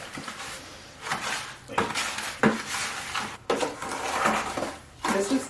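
Mortar mix being stirred into water in a cup for a DIY home decor project, with repeated scraping and knocking strokes in irregular bursts, close and fairly loud.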